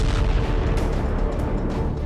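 A deep, sustained explosion from an Israeli air force strike rumbles loud and continuous, a dense roaring blast filling the whole stretch with no pause.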